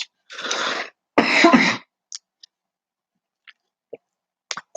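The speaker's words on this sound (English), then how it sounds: "I got a cough." Two harsh bursts of coughing from one person, close and dry, each about half a second, followed by silence with a few small clicks and mouth noises.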